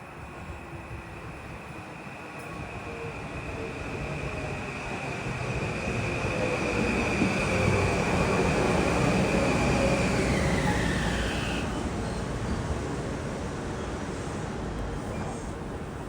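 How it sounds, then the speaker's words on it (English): A Shore Line East commuter train, number 3637, approaches a Connecticut station: a distant rumble swells into loud rolling wheel noise, with a sustained whine that dips in pitch as it passes. No one speaks. "At 1252, approaching is Shoreline East train 3637"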